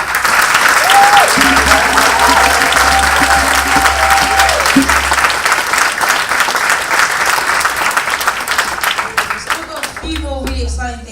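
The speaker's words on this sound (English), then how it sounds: "give a one more round of applause to the panel" Loud, sustained applause from a large conference audience for a panel fills the room, with steady clapping that gradually thins toward the end.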